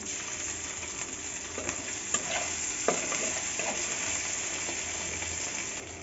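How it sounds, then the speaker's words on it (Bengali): Ginger tossed into a frying pan with potato-and-egg fry sizzles steadily while a spatula stirs, with scattered clicks and scrapes over the continuous frying hiss. "এরপর দিয়ে দিতে হবে একটু আদা"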